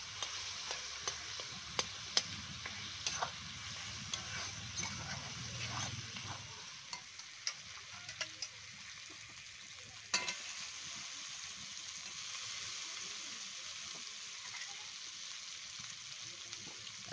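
Potatoes fry in a pan for chicken gravy with a soft, steady sizzle, broken by clicks and scrapes of stirring that are heaviest early on. No one speaks.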